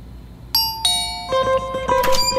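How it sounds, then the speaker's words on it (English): A doorbell chimes loudly several times in quick succession, bright ringing tones layering and overlapping, then a final cluster of chimes, with no voices. "Ding dong, who's there?"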